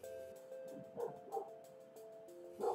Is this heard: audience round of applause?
no